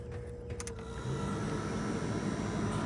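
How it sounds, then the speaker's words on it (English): A 1978 VW Super Beetle convertible's heater fan starts up inside the car, a steady broadband whoosh that rises and holds after a moment, fairly close and alone without talk. "The fan should work fine."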